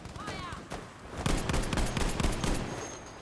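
Rapid rifle gunfire in the video game Battlefield V, a dense burst of repeated shots after a short sweeping in-game effect, loud and close with game ambience beneath.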